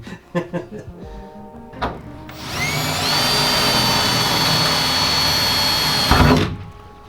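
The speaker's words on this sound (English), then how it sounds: "I'm just going to drill a little hole here" A few knocks and clunks lead into a power drill whirring steadily at high speed for several seconds, drilling a hole in a camper van wall for a window, close and loud, ending with a thud.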